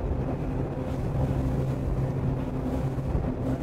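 A Cox CXO 300hp diesel outboard runs steadily at speed around 40 knots, a continuous low rumbling drone with wind and water rush and no pauses.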